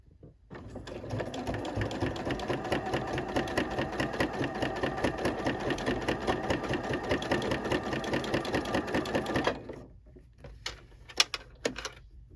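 Sewing machine running a top-stitched seam, a fast steady close rhythmic whirring and clatter for about nine seconds, then stopping, followed by a few faint clicks and handling sounds.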